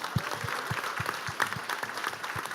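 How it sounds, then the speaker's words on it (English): Audience applause at a tech demo day held at Google HQ: steady moderate clapping from a modest crowd, with individual claps standing out in a loose rhythm, heard alone without talk. "All right, guys, for our next group, actually, give another round of applause."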